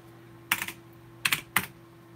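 Typing on a faulty computer keyboard that repeats keystrokes: three short bursts of clattering key presses, the first a quick run of several taps, then two brief clusters, close and fairly quiet against a low hum.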